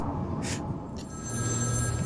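A phone rings during Batman: Arkham City gameplay, with two short electronic ring bursts near the start over a steady low in-game ambience and a faint hum.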